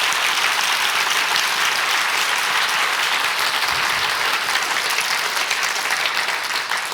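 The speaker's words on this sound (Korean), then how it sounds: "박수 한번 부탁드립니다" Sustained applause from a church congregation, dense and steady throughout, filling the room at a loud, even level with no talking.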